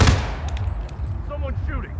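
Gunfire in the video game Hitman (2016), a loud shot at the start followed by a faint rattle of further game sounds under people talking.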